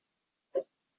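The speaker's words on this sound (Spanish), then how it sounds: "el hipo me dio doble" A single short hiccup sounds in the middle of otherwise silent air.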